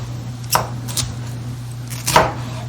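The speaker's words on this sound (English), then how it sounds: "So here we can just do chop like this, tiny." Vegetables chopped finely with a knife on a cutting board during a plant-based Ethiopian cooking class for atakilt wat, three or four crisp separate knife strikes over a low kitchen hum, with no talking.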